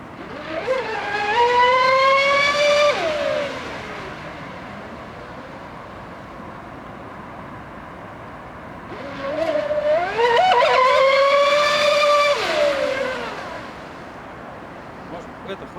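A Mystic C5000 RC boat's electric motor at full throttle on a lake or pond, two loud rising-and-falling whines a few seconds long with a quieter hum between them.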